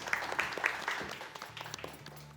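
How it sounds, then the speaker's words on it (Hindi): A studio audience on a Ramadan cooking competition show gives scattered, moderate applause, with a few sharper claps over a soft background hum. "तालियां बजा दें भाई सारे लोग"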